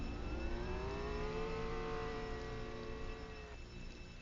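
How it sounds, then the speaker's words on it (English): A car engine in the Roblox game Jailbreak revs steadily with a rising whine, holding a high pitch before cutting off abruptly near the end, with no talking. "Yeah, I do hear a car."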